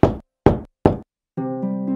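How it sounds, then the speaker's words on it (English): Three sharp, evenly spaced knocks on a door in a cartoon Christmas-story scene, followed by a sustained tonal musical chime; no voices. "Suddenly, there was a knock on the door."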